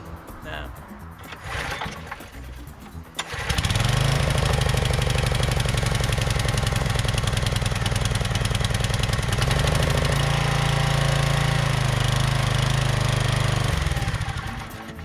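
A small tiller engine catches on the first pull and runs steadily, a loud, close, even buzzing drone that continues unbroken after a brief, rougher lead-in.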